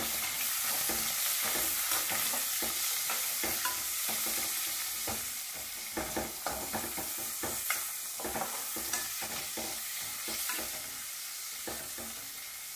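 Chopped onion frying in a pan for Karnataka-style pulao while being stirred: a steady close sizzle with repeated scraping stir strokes, no voices.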